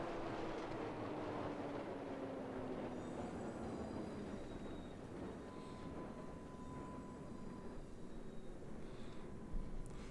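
BKV MII + PIII suburban railway (HÉV) train in the LOTUS simulator game, running along the line: continuous rumbling rolling noise with faint motor whine rising and falling, quiet and steady.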